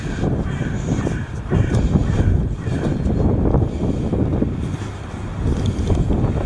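Wind buffeting the microphone on an outdoor walk, a loud continuous rumbling roar that swells and eases in gusts throughout, with no talking.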